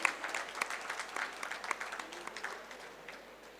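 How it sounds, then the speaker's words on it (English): A convocation ceremony audience at an institute of information technology applauds an academic medal winner, a steady patter of many hands clapping at moderate distance for a few seconds. "Let's have a big round of applause"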